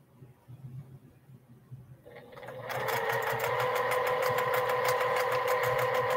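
Sewing machine stitching quilt blocks, starting after a quiet pause and then running in a steady, rapid mechanical whir with a rhythmic needle pulse, close and loud.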